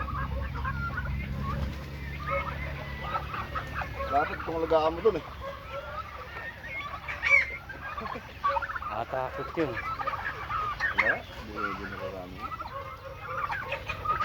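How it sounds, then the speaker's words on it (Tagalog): Chickens cluck and call repeatedly in a farmyard flock, close and fairly loud, with a low steady hum beneath and people talking intermittently over the birds. "Ayun, yung mga manok, oh, ito mo."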